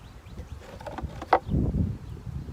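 Honey bees buzz faintly around a hive frame as it is moved to a nucleus box, a soft intermittent drone mixed with brief handling clatter and a sharp knock.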